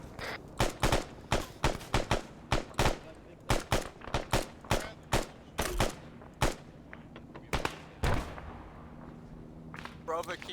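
Heavy suppressive gunfire in the military shooter game Arma: dense, loud bursts and single shots in an irregular rhythm, some close and sharp, others more distant, with faint voices in the background.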